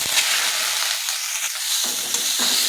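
Spices go into hot oil in a pan and fry with a bright, crackling sizzle that swells and eases, close and fairly loud, with light stirring scrapes and no speech.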